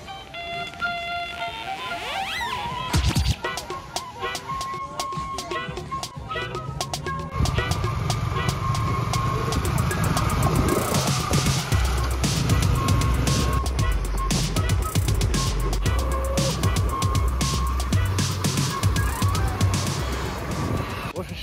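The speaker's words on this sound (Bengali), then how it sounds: "হাইওয়ে দিয়ে চলে আসলাম গোপালপুরে খায়রুল মামার হোটেলে" A car travelling along a highway near Gopalpur, with steady road and engine noise running throughout and loudest in the second half, punctuated by sharp clicks and rattles.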